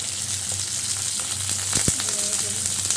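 Beans and potatoes sizzle steadily in a hot pan with green chili, a constant close frying hiss with a few soft stirring clinks, while a voice speaks quietly over it.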